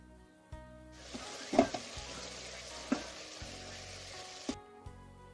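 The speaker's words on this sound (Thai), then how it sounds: "เติมปลาลงไปแล้วก็พัดให้เข้ากันอีกทีหนึ่ง" Fish stir-fried in a pan with kaffir lime leaves and lemongrass, a steady close sizzle with a few sharp clatters of the spatula scraping and tossing, running alone without talk.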